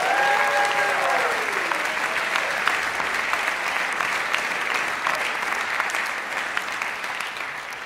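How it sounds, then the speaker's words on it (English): Steady audience applause at a university jazz masters concert event, sustained dense clapping that starts with a brief tonal sound and slowly fades toward the end. "could we have a round of applause?"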